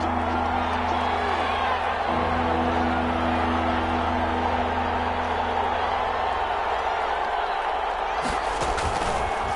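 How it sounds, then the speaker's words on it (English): Stadium crowd noise from a PS4 football video game swells in a steady roar ahead of a big third down, with a sharper burst near the end. "the crowd getting into it as we come up on a big 3rd down"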